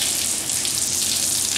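Water rushes steadily from a newly installed tap at a train station, a loud, close, unbroken hiss for the whole short span.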